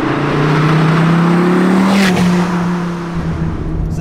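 An SRT Viper GTS sports car with a manual gearbox accelerates hard, its loud engine drone rising steadily in pitch, close and dominant, with a brief shift partway through.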